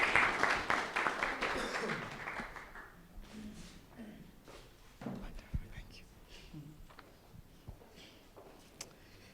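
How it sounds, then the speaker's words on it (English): Audience applause for the panelists at a Competition Commission panel event, a burst of clapping in the opening seconds that fades quickly into sparse claps, shuffling and room noise. "a round of applause, of course, to our fellow panelists"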